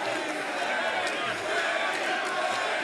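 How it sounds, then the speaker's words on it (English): A large wrestling crowd at an AEW event chanting for Eddie Guerrero, a dense steady roar of many voices filling the arena without a break. "A lot of fans in the crowd chanting for Eddie."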